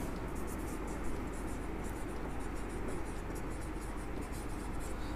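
Steady, continuous scratching of a pen or marker writing out linear equations in two variables, close and fairly quiet, with no talking over it.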